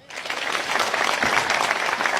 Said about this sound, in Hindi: उनके लिए तालियां बजाया।